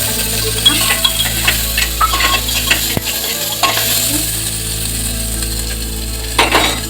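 Onion and tomato sizzle continuously in a hot pan while a utensil scrapes and clatters against it now and then, with no voices.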